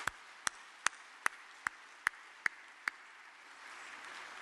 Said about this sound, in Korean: 우리가 그들을 박수로 한번 응원하겠습니다